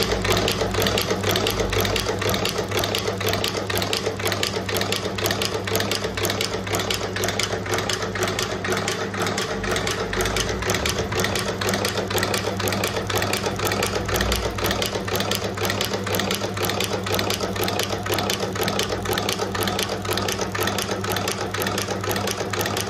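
Automatic anchor chain making machine for gold or silver chain running continuously, a fast even mechanical clatter with a steady hum, close and loud throughout.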